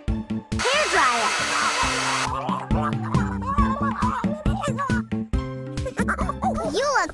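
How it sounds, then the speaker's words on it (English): A video game hair dryer blows with a steady loud whoosh for a couple of seconds amid bright, bouncy game music and cartoonish yips. "Hair dryer."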